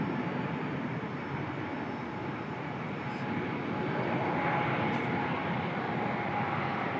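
An airliner rolls for takeoff on runway 23 left at Raleigh-Durham International, a continuous engine roar that swells slightly midway, with faint voices underneath.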